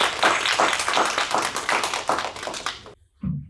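An audience at a school district State of the District address claps in a brisk, close round of applause that stops abruptly, followed by a faint brief sound.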